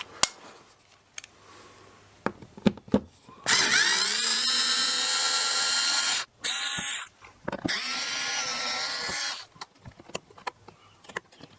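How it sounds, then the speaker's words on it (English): A small electric screwdriver whirs in two sustained bursts as it backs Torx screws out of the plastic fog lens cover on a Fiat Panda 100HP, separated by short clicks and taps of handling. "to get that off we need to take out these little 3 torque screws here"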